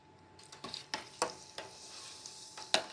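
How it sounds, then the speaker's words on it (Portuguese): Chard croquettes frying in hot oil, a soft steady sizzle with a few sharper clicks and pops as pieces go in, quiet and close with no talking. "Colocamos os croquetes bem de perto, não é para jogar, para o óleo não pular."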